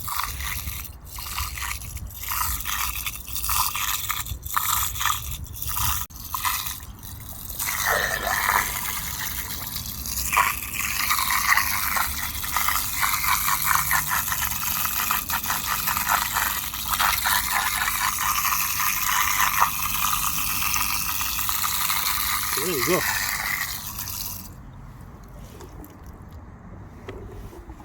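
A washing machine drain pump runs outdoors, lifting water that splashes and sloshes back down, with mechanical rattling and dripping. The noise is steady and close, broken by sharp clicks early on, and cuts off near the end. Someone speaks briefly.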